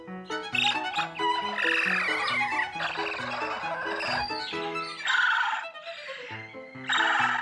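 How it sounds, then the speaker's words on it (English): Busy, high-pitched chirps and trills pile over one another, an excited chorus of monkey calls over grapes, over a repeating low musical background. "The noisy chirping and trilling are happy, excited sounds, prompted by the bounty of grapes."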